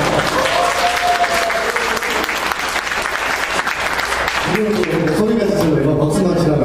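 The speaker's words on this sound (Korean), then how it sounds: "큰 박수가 아닌 것 같은데요" Steady, dense clapping from a lecture audience, loud and continuous, with a voice speaking over it in the last couple of seconds as the applause carries on.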